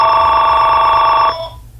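Telephone ringing with an incoming call, a loud, bright electronic ring that holds steady for over a second and then cuts off, leaving a brief fading tail.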